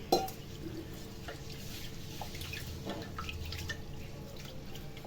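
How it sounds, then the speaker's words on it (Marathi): Five kinds of lentils for Rajasthani panchmel dal are rinsed with water inside a pressure cooker, with soft continuous splashing and sloshing after an opening clank, fairly quiet and close. "सगळ्यात अगोदर ह्या पाच डाळी आपण ज्या घेतल्या त्या कुकरमध्ये टाकून स्वच्छ आपल्याला पाण्याने धुवून घ्यायचं आहे"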